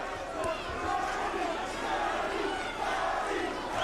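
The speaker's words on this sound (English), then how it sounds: "Crowd is lifting Arturo Gatti, keeping him alive in a fight in which he could easily have been gone by now" Boxing arena crowd roars for Arturo Gatti in his bout against Wilson Rodriguez, a loud, dense wash of shouting and cheering that stays at full intensity throughout.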